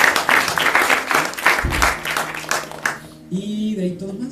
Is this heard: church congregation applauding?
yes